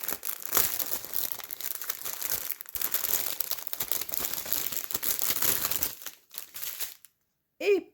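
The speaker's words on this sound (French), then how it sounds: "je déballe." Packaging crinkles and tears almost without pause for about six seconds as it is unwrapped, fairly loud and close, before the rustling tapers off and a short voice is heard at the very end.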